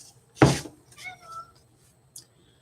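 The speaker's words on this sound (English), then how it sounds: "And here my cat." A pet cat meows indoors during a live stream, one loud close meow followed by a softer, rising cry and a brief faint noise, heard alone.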